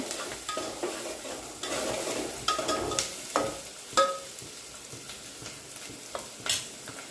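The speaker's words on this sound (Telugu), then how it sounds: "ఆయిల్లో వేసుకుందాం ఈ పచ్చిమిర్చి ఉల్లిపాయలు వేగేదాకా కలుపుకోవాలి" Green chillies and onions fry and get stirred in hot oil for a fish curry, a steady sizzle punctuated by repeated scraping spoon strokes and clinks against the pan, close and moderately loud, with no voices.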